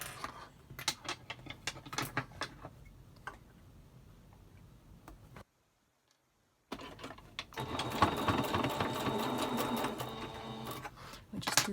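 Sewing machine back stitching a pleated fabric face mask, bursts of rapid mechanical ticking with brief stops, a silent gap midway, then a longer steady run of fast stitching.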